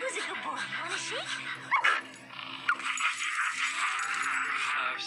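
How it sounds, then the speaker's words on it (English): A cute little dog, a small male, whimpers and gives a few high yips close by, mixed with other noises and a steady background hum. "Oh, what a cute little dog."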